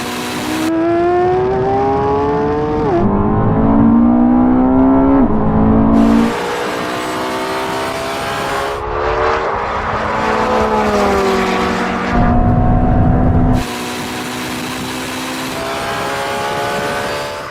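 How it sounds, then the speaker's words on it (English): Lamborghini Revuelto, Porsche 918 Spyder and Ferrari SF90 supercars drag racing over a half mile from 50 mph in third gear, engines roaring loud and close with repeated rising revs and sharp gear-shift drops, no talking. "race over the half mile, but this time we're going to be pulling from third gear from 50 miles an hour"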